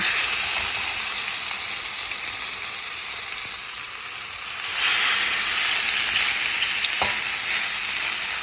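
Steady, loud frying sizzle of chicken fillet in butter in a hot Zepter pan, a dense crackling hiss that swells slightly partway through, with one brief sharp pop.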